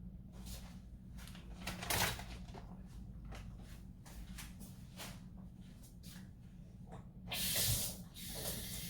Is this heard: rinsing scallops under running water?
yes